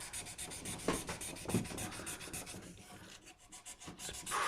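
A plastic acoustic guitar nut on a Stagg guitar is sanded with 400 grit sandpaper, giving quick, continuous rhythmic rubbing strokes, soft and close, with no talk.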